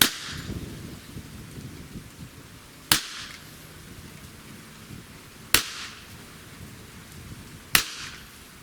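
Three sharp, loud cracks ring out several seconds apart as a Beeman BP50 pepper ball launcher fires at a target, each shot followed by a short echoing decay over soft background noise.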